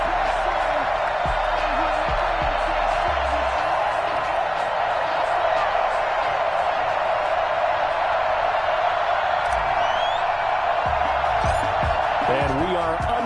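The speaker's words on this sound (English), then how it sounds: "This crowd is ready as their guys get set to match up between the New England Patriots and the Buffalo Bills." Stadium crowd at an NFL game in Buffalo between the Bills and Patriots, a constant loud roar of cheering under a broadcast mix, steady and unbroken with faint whoops.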